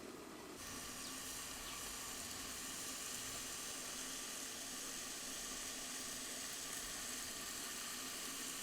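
Macaroni frying in a pan while cooking rice, a steady, close sizzle and crackle of hot oil that holds evenly throughout without any talk.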